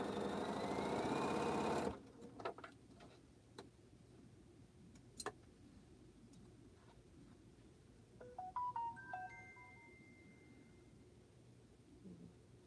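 Sewing machine stitching a quilt block for "H" blocks, a loud steady whirring run for about two seconds, then stopping, followed by quiet scattered clicks and small handling taps.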